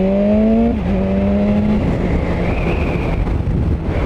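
Engine of a 2019 BMW S1000R Gen 2 motorcycle held against its pit lane speed limiter, a steady close drone with a pitch step near the start, then settling into a rough, even hum with wind buffeting.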